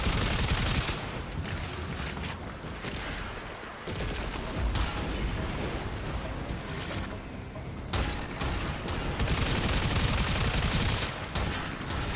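Stug weapon fired in the game Warframe, a dense unbroken barrage of gunfire and bursting blasts that stays loud and busy for about twelve seconds, with brief dips near the middle.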